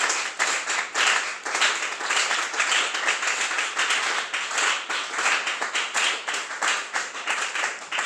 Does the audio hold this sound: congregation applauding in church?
yes